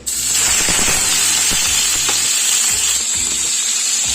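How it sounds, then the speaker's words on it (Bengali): Marinated chicken hits hot white oil in a pan and sizzles loudly and steadily, with a few clinks of stirring close by. "তেলটা গরম হয়ে গেছে। এখন আমি এর মধ্যে দিয়ে দেব ম্যারিনেট করে রাখা চিকেন।"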